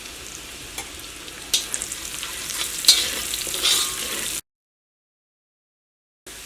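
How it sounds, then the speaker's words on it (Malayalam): Ginger and garlic sizzle steadily in hot oil in a pan for a chilli chicken dish, with a few sharp stirring scrapes over the crackle. A stretch of silence follows. "അപ്പോൾ ഇത് മുരിഞ്ഞ് നല്ലൊരു ഗോൾഡൻ കളറായിട്ടുണ്ട്."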